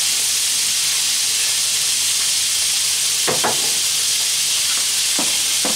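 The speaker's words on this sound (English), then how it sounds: "get the steaks in two at a time to fry them up and brown them off" Steaks fry in hot oil in a pan with a loud, steady sizzle and hiss throughout, broken by a few brief clunks and scrapes near the end as they are moved.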